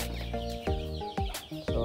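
Several chickens cluck close by in short, repeated bursts, a steady stream of farmyard calls with no voices.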